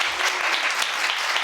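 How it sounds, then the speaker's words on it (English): Studio audience on a daytime TV chat show applauding, a steady dense burst of clapping filling the whole short moment with no talk over it. "Yes, go on, round of applause for Bruce"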